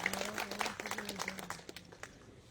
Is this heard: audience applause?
yes